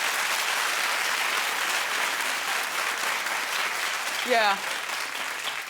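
A talk show studio audience claps in a sustained, even wash of applause, and a single voice calls out briefly near the end over the clapping.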